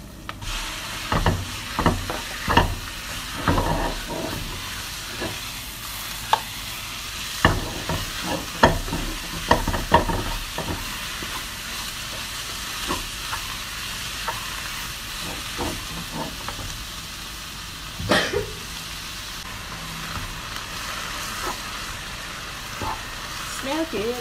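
Minced pork hitting a hot pan with fried chili and garlic for Thai pad kra pao: a loud continuous sizzle and hiss with frequent scraping spatula strokes and clacks throughout, close and busy.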